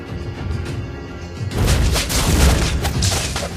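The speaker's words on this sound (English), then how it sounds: "Your team destroyed a turret!" Turret-destruction explosion in the Mobile Legends video game, a loud booming crash that hits suddenly and rumbles on for a couple of seconds after a quieter stretch of game sound.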